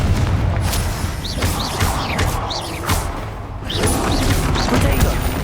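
Confringo blasting spell explosions in Hogwarts Legacy, with booming, crashing bursts and several high whooshing streaks, loud and dense in a busy battle mix.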